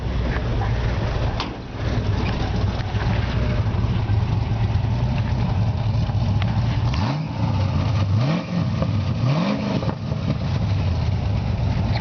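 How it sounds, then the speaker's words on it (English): A 1954 Ford F100 rat rod truck with a 429 V8 engine rumbles steadily up close, a few revs rising and falling near the end over the constant deep idle. "I'll let you hear the nice rumble of this 429."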